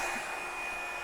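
Steady, close roar of a Revlon One Step hair dryer styler working through hair, a brief continuous blast of air and motor hum at constant loudness with nobody speaking.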